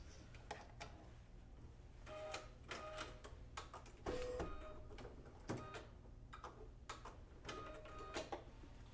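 Embroidery machine sewing a white satin stitch on a bunny design, quiet rapid mechanical ticking and clicking with short bursts and pauses, close but faint.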